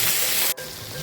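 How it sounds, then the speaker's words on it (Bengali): Dried chepa shutki fish frying in hot mustard oil, a loud close crackling sizzle that cuts off abruptly, then resumes as a slightly softer steady hiss. "তেলটা গরম হয়েছে, এখন দিয়ে দিব চাপা শুটকি।"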